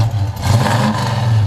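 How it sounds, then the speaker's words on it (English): A 1969 Dodge Dart GTS revs through its dual exhaust, a loud, close, rumbling engine note that swells and holds over about a second and a half, with no talk over it. "Yeah, nice little dual exhaust"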